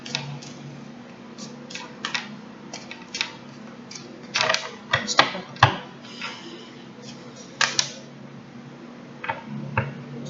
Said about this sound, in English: I'll shuffle a couple of times more.